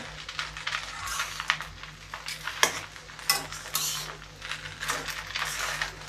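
A spatula slowly turns spiced tempered rice in a pan, giving steady scraping and stirring strokes with a few sharp metallic taps over a low sizzle, close and continuous, with no voices.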